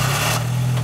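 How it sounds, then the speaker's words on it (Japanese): A Suzuki Cappuccino's F6A early-type engine idles with a steady low drone and a faint mechanical rattle, heard up close and alone. "ちょっとエンジンかけてくれる"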